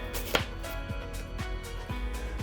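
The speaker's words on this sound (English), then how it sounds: "Now, slice the onion from the North Pole to the South Pole." A knife slices through an onion on a cutting board in several evenly spaced, soft cuts, each a quick close crunch over a quiet steady background.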